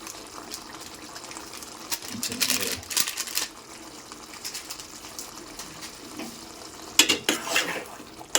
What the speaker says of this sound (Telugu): చికెన్ మసాలా వేసి కలిపి దించుతాను